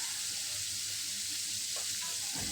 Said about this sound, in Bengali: মাছটা আমি দিয়ে দিলাম ভাজির জন্য।